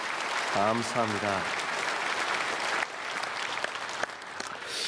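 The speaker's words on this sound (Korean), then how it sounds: "우리 크게 박수로 환영하겠습니다." A church congregation at a Sunday service breaks into loud, sustained applause to welcome newcomers, a dense crowd clapping throughout while someone speaks briefly over the start.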